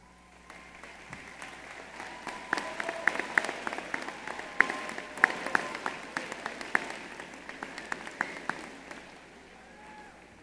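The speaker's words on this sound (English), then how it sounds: "Please stand for a round of applause." Applause from an audience at a business school master's and doctoral commencement, with scattered individual claps standing out over a steady wash of many hands throughout, fading slightly near the end.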